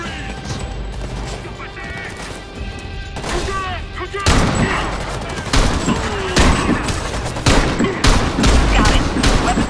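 Heavy gunfire rattles through a Homefront battle, dense bursts and sharp cracks stacking into a loud, continuous barrage with intermittent shouted voices mixed in.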